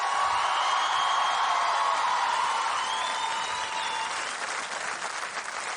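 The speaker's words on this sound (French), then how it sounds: "Vous pouvez les applaudir très fort." Sustained applause from a TV studio audience, dense and even throughout and thinning slightly toward the end, with no voices on top.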